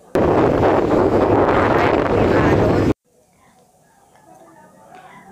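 Strong amihan monsoon wind on a provincial shore buffets the microphone in a loud roar for about three seconds, then drops away to a faint, distant wash of sea waves.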